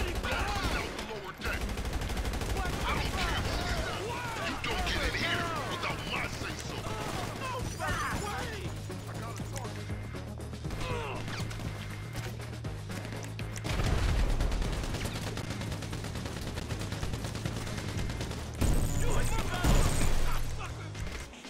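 Gunfire in Grand Theft Auto V Online during a casino mission shootout: sustained bursts of shots over a low droning hum, with a louder volley near the end and voices talking throughout.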